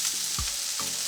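Egg noodles tossed in a pan with stir-fried chicken and vegetables, a short burst of loud, even sizzling with a couple of soft knocks as the food is moved.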